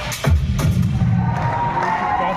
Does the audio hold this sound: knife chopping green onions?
no